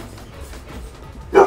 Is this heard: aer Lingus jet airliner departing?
no